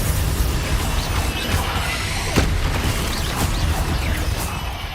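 Confringo spell blasts in the video game Hogwarts Legacy burst out among loud, dense combat noise, with sharp crashing booms standing out around the middle and several more impacts following.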